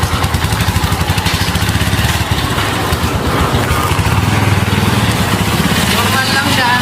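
Motorcycle engine running steadily with the choke raised, a close, loud, even putter with a fast regular firing rhythm and no revving.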